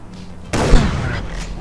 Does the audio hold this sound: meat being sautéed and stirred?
no